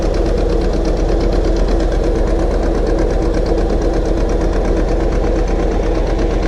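A motorised river boat pulls away from Betuya ghat on the Ganges, its engine chugging in a steady, close, loud rhythmic knock that holds unchanged throughout, with no voices.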